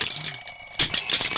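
An alarm clock rings with a shrill, steady metallic ring that runs throughout and grows louder and busier partway through.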